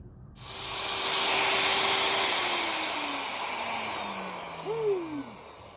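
A vacuum cleaner switches on and runs with a loud, steady broadband roar and hiss in a workshop during a DIY subwoofer box build, its motor pitch sliding and wavering near the end.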